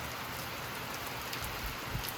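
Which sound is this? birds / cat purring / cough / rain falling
rain falling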